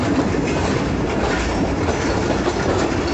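Jaffar Express passenger train running on the Lahore-to-Quetta line as it approaches Jacobabad, with a steady, loud rumble of wheels on rails and a continuous carriage roar and no break throughout.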